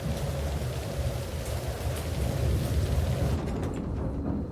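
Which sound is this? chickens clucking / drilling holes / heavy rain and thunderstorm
heavy rain and thunderstorm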